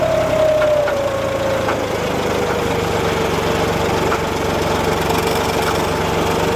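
A tractor engine runs steadily at constant rpm in gear with four-wheel drive disengaged while the tyres slip, giving a loud, continuous mid-low drone with a falling whine early on and no talk.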